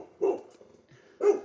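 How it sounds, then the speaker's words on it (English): A dog gives two short, close barks separated by a brief quiet gap, heard indoors. "that's my dog"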